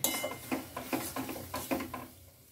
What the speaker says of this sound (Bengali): এই দিয়ে আমি একটু নাড়াচাড়া করে নেব ভালো করে।